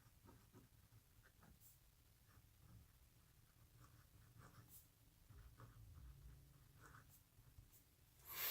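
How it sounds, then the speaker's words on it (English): A fountain pen with a 14 karat gold nib scratching across paper, producing faint, soft irregular strokes and light taps close up in a quiet room. "now we will do it with the 14 karat gold nib"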